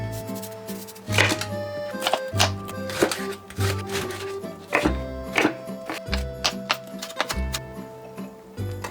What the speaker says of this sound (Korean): 파를 송송 썰어 넣고